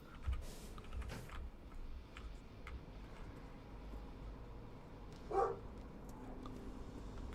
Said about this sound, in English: can hear Jet barking downstairs